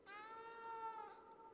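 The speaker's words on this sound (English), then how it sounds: "You can meow?" A cat in the video game Stray lets out a single drawn-out meow, clear and close, with no other sound around it.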